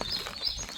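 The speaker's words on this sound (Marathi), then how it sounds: "चिमण्यांचा आवाज येतो" Sparrows give brief, high chirps amid the soft hiss of light drizzle, moderately close but faint, over less than a second.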